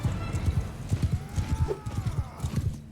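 Horses gallop through a battle in the video game Mount and Blade Bannerlord, a loud, close, rapid clip-clop of hooves pounding in steady rhythm, with a faint whinny cutting through partway.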